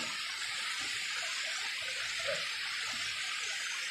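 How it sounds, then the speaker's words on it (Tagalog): Floodwater rushes in a steady, loud roar of churning water, an unbroken broadband wash that holds at the same strength from start to end with no voices. "parang lumakas talaga lalo yung baha"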